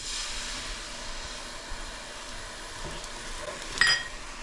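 Water hisses and steams steadily in a hot pan while reheating pizza, a soft continuous sizzle with a brief louder burst near the end.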